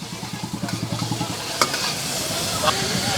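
Maggi noodles cooking with fried onion at a Delhi street food stall, beginning with quick rhythmic spatula tapping on the pan over a steady sizzle, then settling into loud continuous frying with an occasional scrape.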